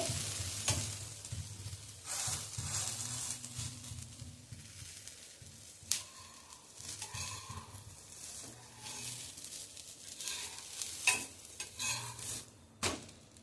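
A tomato omelette fries softly in a pan with a low steady sizzle, punctuated by a few sharp scraping taps as a spatula works and flips it.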